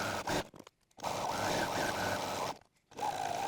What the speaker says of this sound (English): I'm going to sew my seam there and then zigzag stitch around on both sides